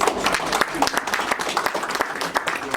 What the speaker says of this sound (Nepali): हस्, हामी ताली बजाइदिन